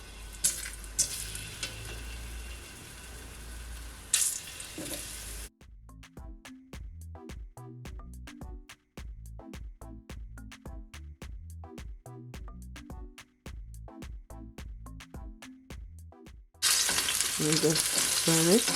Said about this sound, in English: I'm just gonna firstly saute my ripe plantain just a bit.